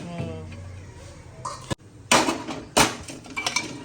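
Lapsi being stirred in a metal cooking pot over low heat, giving a few scraping, clanking strokes of a utensil against the pot, close and fairly loud, with a quiet stretch between.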